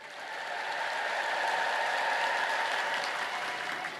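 A congregation at a religious service ululates in praise, a loud, sustained, high chorus of many voices that swells and then eases slightly over about four seconds.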